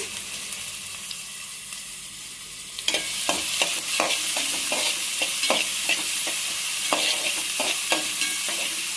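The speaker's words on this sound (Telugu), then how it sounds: "ఇవి బాగా బ్రౌన్ కలర్లో వచ్చేదాకా వేయించుకోవాలండి" Cardamom pods and green chillies fry in oil in a pan, giving a steady close sizzle. It grows louder partway through, and repeated scraping stir strokes break through it.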